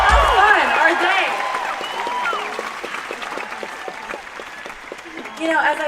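Applause from an audience at a concert at the Greek Theatre fills the space, with a voice talking over the clapping before it swells again at the end.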